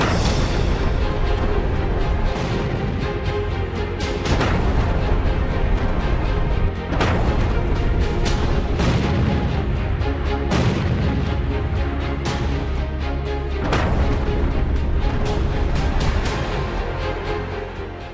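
Wartime Kharkiv rings with repeated heavy booms and blasts from bombing, a dense, loud barrage of explosions and artillery-like impacts with no speech.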